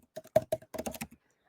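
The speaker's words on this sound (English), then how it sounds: "When you're typing things in," Quick, close keystrokes on a computer keyboard come in a short burst of about a dozen clicks, then stop, with no voices.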